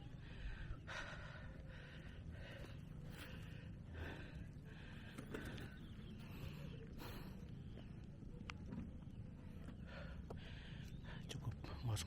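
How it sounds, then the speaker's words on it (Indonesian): Heavy, ragged panting from a hiker climbing foggy Mount Andong, loud breaths in and out close to the microphone, repeating unevenly with some rustling alongside. "Cukup ngos-ngosan."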